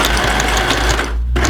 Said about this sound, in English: The sewing machine.